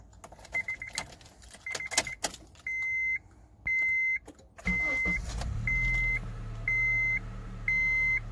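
A 2003 Honda CR-V: keys jangle, a repeating warning chime sounds, then the engine cranks and catches into a steady idle under the continuing chimes, recorded close.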